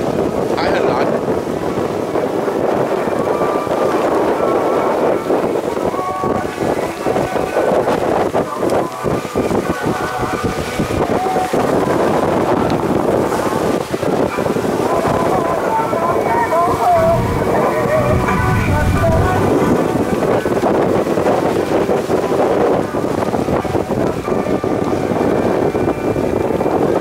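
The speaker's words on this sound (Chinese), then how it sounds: "今天天气晴，风很大，还很蓝。" Strong wind roars across a sailboat at sea near Ishigaki Island, bound for Taiwan, a loud, unbroken rushing and buffeting against the microphone with faint water noise beneath it.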